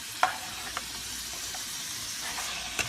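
Oxtail browning in a hot pan gives a steady, moderately quiet sizzle with a few faint pops and clicks scattered through it.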